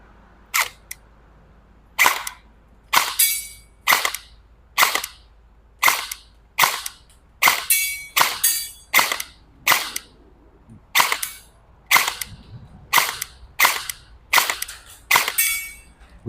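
Shots from an E&C 302 M4 airsoft electric gun with metal body, fired at a small 10 cm target 10–20 metres away: about sixteen sharp, loud single cracks at uneven intervals, some in quick pairs, with no talking.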